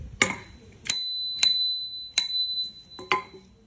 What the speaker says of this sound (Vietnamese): Rồi cái ghi đông Đài Loan có chuông này luôn